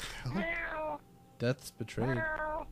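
A player in Call of Duty voice chat imitates a cat, drawing out two long, wavering meows with a short yelp between them, close to the mic and loud.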